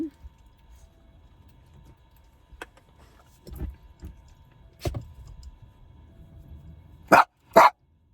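A dog barks in the distance a few times, then two louder, closer barks follow near the end against a quiet background.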